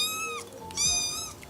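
A cat meows twice in clear, fairly close, drawn-out calls with a short gap between them, heard alone without talk.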